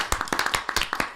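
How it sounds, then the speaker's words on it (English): A brief burst of clapping at a city commission meeting, with quick, even hand claps close by. "I just want to give a round of applause."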